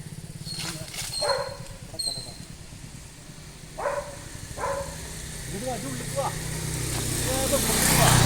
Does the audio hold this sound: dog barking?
yes